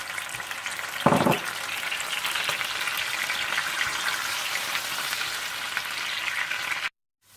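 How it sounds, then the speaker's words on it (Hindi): Onion paste frying in oil and butter for ginger chicken, a steady close sizzle running throughout, with a brief louder stir-like burst near the start and an abrupt cutoff at the end. "और फिर इसी तेल और मक्खन में आप ऑनियन पेस्ट डालकर अच्छी तरह से भून लें।"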